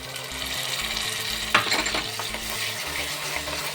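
Onions, green chillies and fresh tomato puree frying in a pan for a veg frankie filling, with a continuous close sizzle and occasional scraping stir sounds, one sharper clatter near the middle, heard alone.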